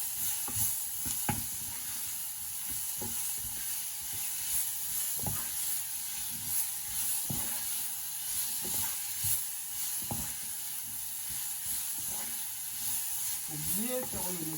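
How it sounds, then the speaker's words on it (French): Spices fry in a saucepan for a Caribbean-style tuna quiche, giving a steady close sizzle with occasional scraping and stirring knocks from a utensil against the pan. "Pour bien faire revenir nos épices, pour qu'ils puissent pas brûler à l'intérieur de la casserole."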